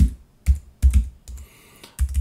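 Keys on a computer keyboard are tapped in a few quick clustered bursts separated by short pauses while a password is entered, close and clear with no talk.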